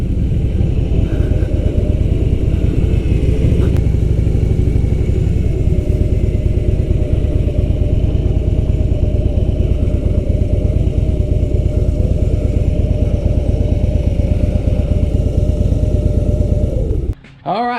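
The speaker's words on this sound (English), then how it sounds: "We got dirt roading. We've got an adventure bike going." An adventure motorcycle ridden on a dirt road, its engine droning steadily and loudly with constant rumble and clatter throughout. Near the end it cuts off abruptly.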